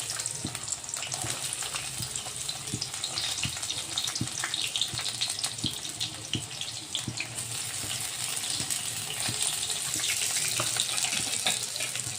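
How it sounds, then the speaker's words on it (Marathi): Three chopped onions frying in a pan give a soft, continuous sizzle with small scattered crackles, heard close and steady for the whole stretch, with no talking. "आता कांदा टाकायचा."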